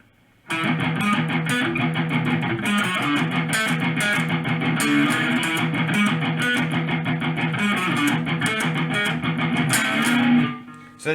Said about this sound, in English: but if you add in some rhythm and palm muting, you can make it sound like this.